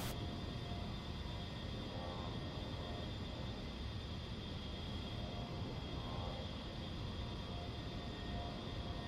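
Steady, dense jet-engine roar from an A-10C in the DCS World flight simulator as the throttle is pushed up, holding an even, continuous level for the whole stretch with no other sounds.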